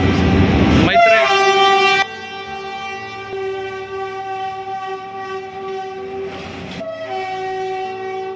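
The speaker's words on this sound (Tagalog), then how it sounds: "Nakatulog ka ba kapag ganyan may tren na dumadaan?" A train passes close by, its horn blaring in long sustained blasts over the heavy rumble and rattle of rail cars, with the horn sounding again near the end.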